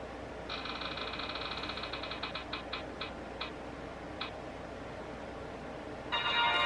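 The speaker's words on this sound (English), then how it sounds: "I'm gonna go ahead and roll the debt roulette wheel twice." A spinning roulette wheel clicks rapidly past its pegs, then slows to widely spaced ticks and stops, followed by a brief brighter chime-like sound at the end; quiet, close and with no talking.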